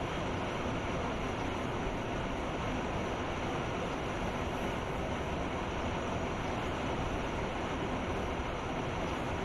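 Swiss Krokodil electric locomotive running in Train Simulator Classic, a steady, dense rumbling drone of the train underway that holds constant throughout with no voices.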